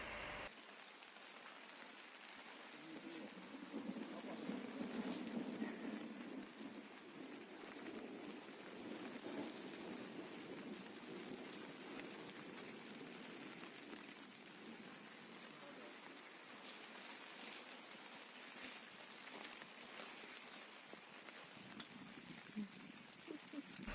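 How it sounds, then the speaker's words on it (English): Steady rain drums on a surface outdoors, a dense, even hiss that holds for the whole stretch with no voices over it. "The rain caught up with us."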